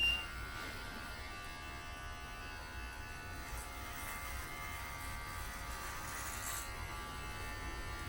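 Electric hair clippers run steadily through a home haircut, giving a faint, even buzzing hum close by that persists with little change throughout.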